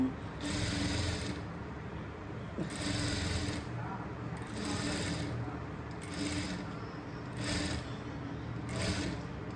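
A sewing machine stitches a blouse in repeated runs of steady mechanical whirring, each burst lasting about a second, then pausing briefly before starting again, close and clear.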